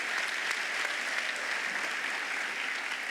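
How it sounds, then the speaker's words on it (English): An audience at a school district awards evening applauds its award recipients with steady, even clapping throughout. The applause is heard alone, with no speech over it. "we should give all of our recipients a round of applause tonight"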